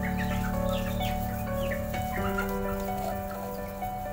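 Chickens in a coop, woken in the night, cluck and call repeatedly in a dense, close chorus over a steady low background hum.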